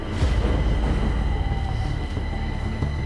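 A Stockholm subway train pulls into the station platform with a steady low rumble of wheels and car noise, its faint squeals rising over the roar, and no voices.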